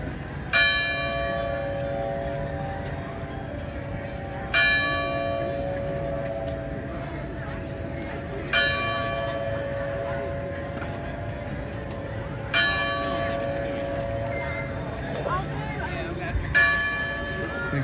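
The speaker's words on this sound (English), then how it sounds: "I think that bell means it's time for me to get ready to roll out of here" A bell rings out at the Magic Kingdom theme park, five bright clanging strikes spaced about four seconds apart over a steady outdoor murmur, with soft talk underneath.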